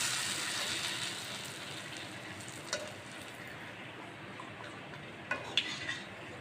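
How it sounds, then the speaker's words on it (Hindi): Rice flour papad fries in hot oil in a kitchen, a soft, steady sizzle with a few faint clinks of a utensil against the pan and no talk. "तो अब मैं आपको इनको फ्राई करके दिखाती हूँ।"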